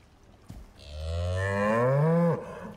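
Cows in the survival game Icarus moo in one long, loud, drawn-out low call that rises and falls, close by and alone without talk.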